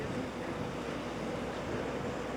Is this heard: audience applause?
no